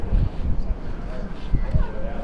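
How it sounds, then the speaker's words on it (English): Wind gusts buffet the microphone outdoors on a windy day in Reykjavik, Iceland, a loud, continuous low rumble that swells and dips throughout. "so it's a windy day today too in REYKJAVIK"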